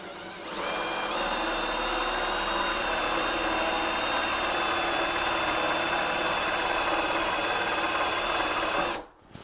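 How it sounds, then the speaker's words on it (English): Power drill fitted with a hole saw boring through a door for a smart lock bolt, a steady high whine with a grinding edge that starts sharply and runs continuously for several seconds before cutting off abruptly. "now we've got the hole saw for the drill ready, and we're going to drill the bolt here on the door."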